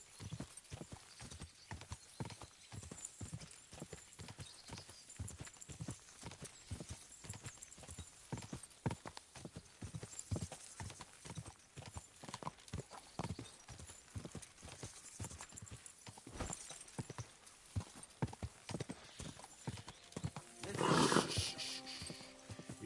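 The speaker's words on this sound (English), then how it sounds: "Easy, good horse." Rapid steady clip-clop of horse hooves in the video game Kingdom Come: Deliverance II, with a brief snort or whinny near the end, fairly faint and continuous.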